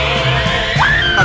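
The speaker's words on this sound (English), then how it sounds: "at least I got to hear a Wilhelm scream" A Wilhelm scream sound effect rings out in the You Don't Know Jack 2015 video game, one short, loud cry that rises in pitch and is then held, playing over the game's steady background music.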